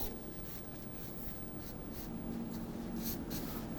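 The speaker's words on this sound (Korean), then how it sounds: "제가 이 녹색 펜을 이용을 해서 동그라미" A green pen scratches steadily across paper while drawing circles for a basic design sketch, with close, continuous rubbing strokes and no talk.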